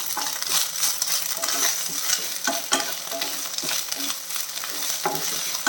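Steady sizzling of moringa and coriander leaves frying in a pan, with repeated scraping strokes of a spatula stirring them; no voices.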